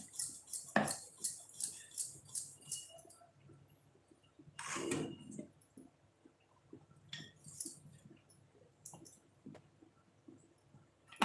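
A metal tawa griddle and pans clank and scrape in a home kitchen while rotis are made, with a rapid run of light clinks, a louder clatter midway and scattered knocks afterward.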